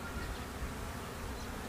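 Honeybees buzz densely around an open hive during queen marking, a close, steady, loud hum filling the whole moment.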